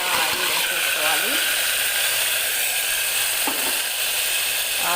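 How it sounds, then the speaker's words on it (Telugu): Ingredients frying in hot oil in a home kitchen: a loud, steady sizzle runs throughout, with a couple of brief utensil scrapes. "ఇదిగోండి ఆయిల్ కాగింది, అన్నీ ఆయిల్ వేసేసుకోవాలి"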